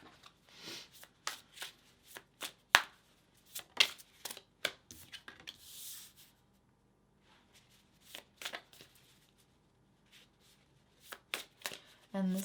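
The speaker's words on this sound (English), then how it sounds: "Let's just pull the cards and see kind of like what transpires" Tarot cards are shuffled and pulled, giving a series of crisp riffling and slapping bursts, close and soft, with scattered gaps between the shuffles.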